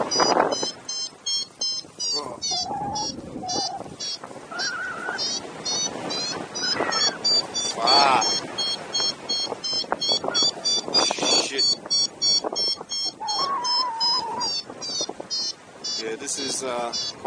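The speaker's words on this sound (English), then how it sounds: "Beep, beep, beep." A paragliding variometer beeps in rapid, rising pulses in strong lift over mountains, steady trains of close electronic tones under wind buffeting on the microphone while a pilot talks.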